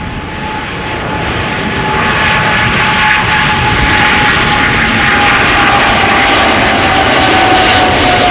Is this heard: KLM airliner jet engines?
yes